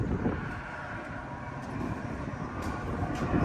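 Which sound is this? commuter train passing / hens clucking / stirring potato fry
commuter train passing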